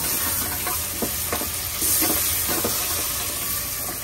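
Curry paste sizzles and hisses steadily in a hot pan while a spoon stirs with soft periodic scrapes, close and continuous, no talking.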